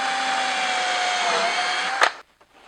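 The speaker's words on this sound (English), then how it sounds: "we want to drill pilot holes" A power drill whines steadily while boring pilot holes in soft cypress and cedar wood, running close and even for about two seconds before a short burst and abrupt stop into near silence.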